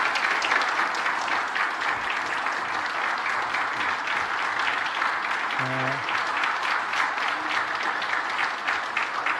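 Sustained, dense applause fills a Korean church's Sunday worship service as the congregation welcomes a new family, a continuous crackle of many hands that stays even for nearly ten seconds with a brief tonal sound midway.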